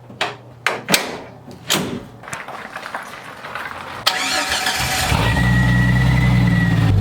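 A Jeep Cherokee XJ, fitted with a new clutch master and slave cylinder, heard up close: a few sharp door thuds and clunks, then the engine cranks, catches and settles into a steady, loud running rumble.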